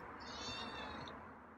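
A feral cat being tamed gives a single faint, drawn-out meow against a steady wash of background noise.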